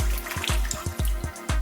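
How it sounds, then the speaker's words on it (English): Hands dipped in water and pressing down chocolate flapjack mix in a bakery: a series of about eight wet slaps and splashy dabs at an irregular rhythm, close and fairly loud, with light water trickling between them. "get your hands, dip it in some water,"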